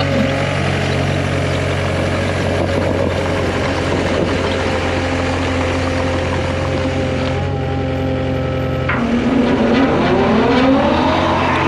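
A Baumalight brush cutter mounted on a Takeuchi TL240 compact track loader drones loudly and steadily, with a rising whine building near the end.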